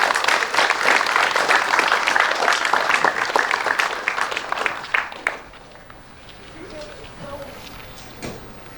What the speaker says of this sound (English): I want to have a round of applause for all those sponsors.